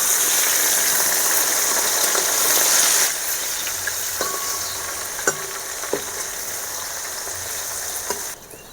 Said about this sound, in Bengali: মাছ ভাজার জন্য আমি কড়াতে তেল দিয়ে দেবো।